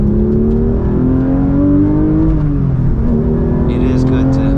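A Porsche 992 GT3 Touring with manual gearbox revs loudly on a rural road, its engine tone climbing steadily, dipping briefly on a shift, then rising again, dominating the cabin throughout.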